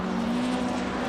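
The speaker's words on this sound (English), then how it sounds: "Listen to the noise from Vennerlein's car." A rallycross race car's engine at Kymiring circuit during a race, a steady, dense drone holding one loud tone throughout, heard from a distance over the track.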